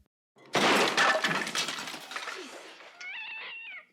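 In a scene from the horror film Scream, a loud glass-shattering crash gives way to clattering debris, then a cat lets out a drawn-out, plaintive meow near the end.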